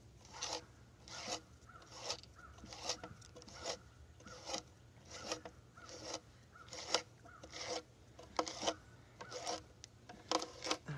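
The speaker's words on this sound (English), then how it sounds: "I guess there is worse wood to mortise than ash" A mortise is cut by hand in ash timber for a timber-frame post, heard as a regular series of rasping chisel or saw strokes, roughly one per second, close but faint.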